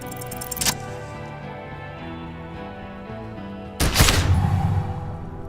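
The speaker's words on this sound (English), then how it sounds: "A plume of smoke and fire erupts from the gun, and your hand goes numb from the explosion." A gunshot in the detective role-playing game Disco Elysium: a sharp crack followed a few seconds later by a louder booming blast with a rumbling tail, set over a sustained low musical drone.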